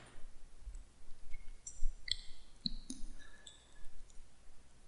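A computer mouse gives a few sharp, quiet clicks at uneven intervals while saving a file, close by in a quiet room with no talking.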